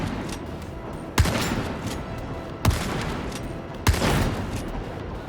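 A shotgun in the video game Darktide fired at a distant sniper: three loud, sharp blasts spaced about a second and a half apart, each with a short rumbling decay over low background noise.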